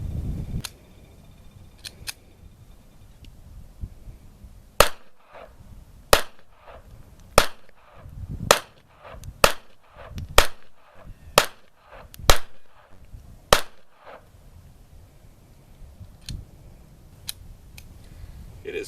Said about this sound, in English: It is now time for our second shoot with the French Ruby